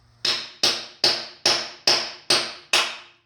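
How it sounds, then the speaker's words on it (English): Seven evenly spaced sharp metallic strikes of a hammer driving a chisel against loose metal on an S10 truck frame, each ringing briefly and decaying, close and loud with no talking. "chiseling that loose metal, whatever I get off"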